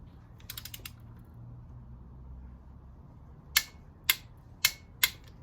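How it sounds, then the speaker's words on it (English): A ratchet wrench torques an exhaust manifold bolt on a 2004 Mazda Tribute V6, with a short burst of quick clicks followed by four sharp, evenly spaced ratchet clicks close by. "So let's torque this one down now."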